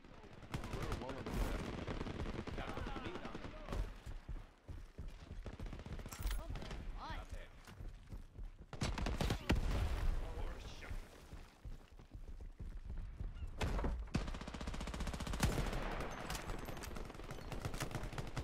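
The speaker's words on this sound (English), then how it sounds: "Gunshot is very good." Rapid bursts of automatic gunfire from a multiplayer shooter video game, loud and repeated throughout with brief pauses, while players talk over the action.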